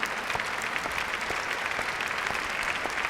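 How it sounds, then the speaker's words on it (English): Steady applause from a crowd in St Paul's Cathedral, dense continuous clapping throughout at a fairly even level with no speech. "I think that's worth a round of applause."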